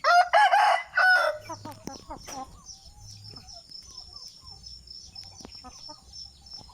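Fighting-breed roosters and hens at a Lao game-fowl breeding farm, with a loud crow ringing out at the start, then scattered clucks and low clucking murmurs continuing at moderate volume.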